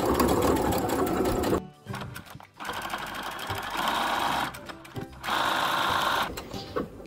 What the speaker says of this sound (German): Dreh den Stoff leicht und nähe nach unten weiter.